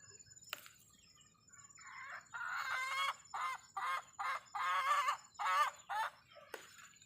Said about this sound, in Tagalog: Ingay ng mga manok, ah.